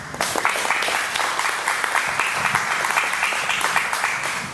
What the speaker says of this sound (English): So a big round of applause for Charles.